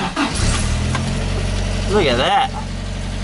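A Toyota Hilux engine turns over and settles into a steady, rumbling idle, close by, with a brief rise in revs partway through and a person speaking over it.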